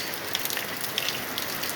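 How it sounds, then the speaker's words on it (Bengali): Steady evening rain falls with a soft, even hiss, heard from inside a house, scattered droplets pattering on a surface; no voices, moderately quiet throughout. "দেখতে পাচ্ছেন বৃষ্টির ভিতরে বাসার মধ্যে দাঁড়িয়ে আছে"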